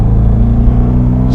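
A 2004 C5 Corvette Z06 engine with a cold air intake and bone-stock exhaust idles in a deep, steady, loud rumble, its tone even and unbroken throughout.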